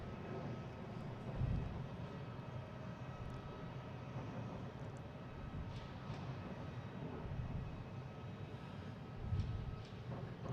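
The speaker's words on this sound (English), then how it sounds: "next taking off, though we do have a Delta here. This will be heading to LaGuardia in E175, Flight 5726." A Delta Embraer E175 jet takes off from Boston Logan International Airport, producing a steady, distant engine rumble with mild swells. The rumble stays fairly faint, and no voices are heard.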